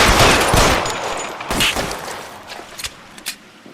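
Gunfire in the video game L.A. Noire: a loud, dense volley of sharp shots up front, then a few scattered, fainter single cracks trailing off.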